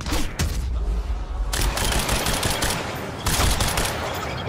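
Gunfire in the Quantum Break video game comes in loud, rapid automatic bursts with short gaps between volleys, harsh and close.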